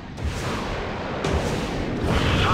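Artillery and gunfire in the Act of War: High Treason real-time strategy game during a desert siege, a continuous rumbling barrage of distant booms and crackling shots.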